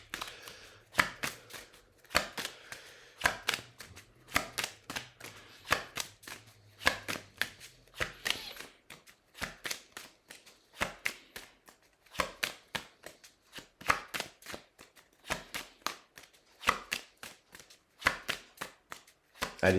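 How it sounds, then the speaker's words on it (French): Tarot cards are shuffled by hand, producing close, crisp riffles and slaps in irregular bursts, with short gaps between handfuls and faint tapping throughout. "une dernière carte pour voir, je vais bien mélanger"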